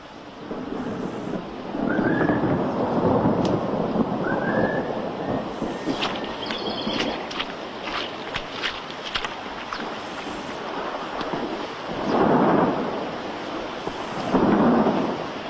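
Thunderstorm with rain, low rolling rumbles of thunder swelling and fading several times over a constant hiss of rainfall and wind buffeting the microphone, with no voices.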